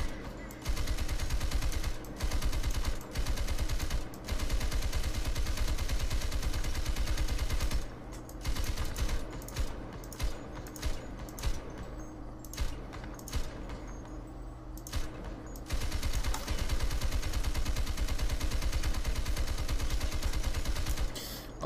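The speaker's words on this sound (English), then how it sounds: "So there's the guns" Gunfire from a realistic sound pack in the video game FiveM comes as rapid, loud bursts of automatic shots, with long sustained volleys broken by short pauses and sharp single cracks.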